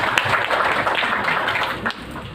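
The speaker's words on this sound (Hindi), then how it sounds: "एक बार जोरदार तालियां हो जाए, हमारे अन्नदाता हैं ये।" Applause from a rural audience gathered around a speaker, a steady dense wash of many hands clapping at moderate volume with no pauses, sustained throughout.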